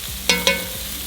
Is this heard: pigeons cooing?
no